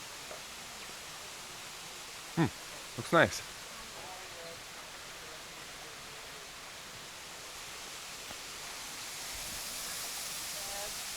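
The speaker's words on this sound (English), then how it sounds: "here you can see the stream" A rain-fed bush stream in Royal National Park rushes with a steady, even hiss from start to finish. Brief sharp knocks come near the middle, and a voice speaks briefly.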